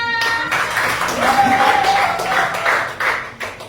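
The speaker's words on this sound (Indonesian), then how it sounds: "Tepuk tangan dulu untuk kelompok 5" Students in a classroom clap for a presenting group, a short burst of scattered hand claps with a voice briefly heard over it, the clapping thinning out toward the end.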